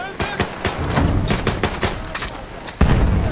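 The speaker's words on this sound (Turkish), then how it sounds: "Makinalı tüfek, düşman." Machine gun fire in Battlefield 1 rattles close and loud as rapid sharp bursts, with heavier booms of battle mixed in and a sudden loud blast near the end.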